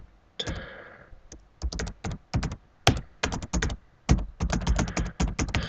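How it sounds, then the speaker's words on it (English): Keys clack on a computer keyboard while JavaScript code is typed out, in uneven bursts of rapid presses with brief pauses between, close and clear with no talking. "Sorry about typing this out."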